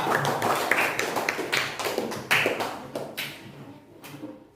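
A school class claps for a classmate, a dense burst of hand claps with sharp individual slaps that gradually thins out and fades toward the end.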